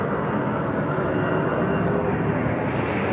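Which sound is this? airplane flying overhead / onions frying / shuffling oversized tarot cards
airplane flying overhead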